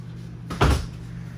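A single door on the interior of a 2020 Keystone Avalanche 366MB fifth-wheel RV opens or closes, one short solid thump with a brief rattle, close by, over a quiet low hum.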